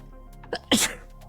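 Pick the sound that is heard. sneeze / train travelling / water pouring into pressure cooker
sneeze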